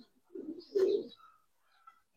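Giribaz pigeons give one low, rounded cooing burst close by, then a few fainter, softer coos trail off in otherwise quiet surroundings.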